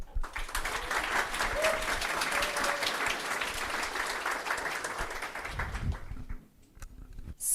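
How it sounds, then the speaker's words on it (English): A conference audience at a Flutter developer talk gives the speaker a long, even round of applause that holds steady for several seconds and then thins out and stops. "Please give a big loud applause for the speaker."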